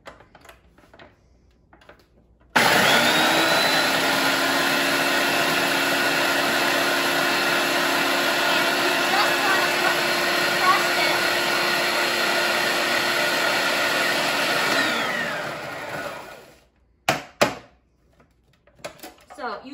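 A food processor grinds cheesecake crust ingredients with a tablespoon of sugar into crumbs, starting abruptly with a loud, steady whirring and rattling roar that runs for about twelve seconds before winding down, followed by a few short clatters.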